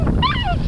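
Several dogs out on a walk yip and whimper in a brief, loud, close burst, with rising and falling whines over a steady low rumble.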